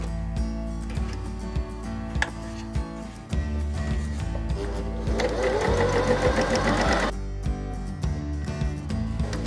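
A Hobby 1142 sewing machine runs in a steady, rapid mechanical stitching rhythm, close and prominent. It speeds up into a denser whirr partway through, then settles back.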